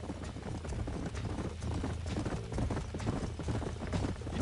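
Rapid clip-clop of horse hooves trotting at a steady rhythm in the video game Red Dead Redemption, close and fairly loud, continuing without pause.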